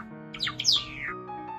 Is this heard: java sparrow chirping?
yes